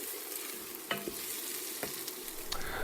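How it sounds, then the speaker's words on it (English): Onions soften over medium heat in a pan, making a quiet, steady sizzle with a few sharp scraping stirs from a utensil and no talking. "you want to keep an eye on your onions while they're sauteing so they don't take on much color"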